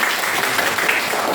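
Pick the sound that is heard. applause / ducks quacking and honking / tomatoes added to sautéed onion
applause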